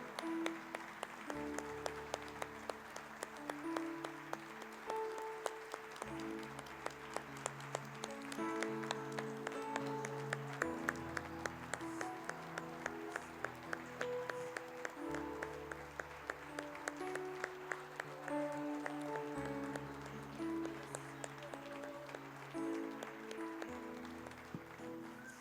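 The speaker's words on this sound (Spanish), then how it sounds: "¿Por qué no le damos un fuerte aplauso al Señor?" A church congregation claps in sustained applause for about twenty-five seconds, with dense, steady clapping over faint background music and some distant voices.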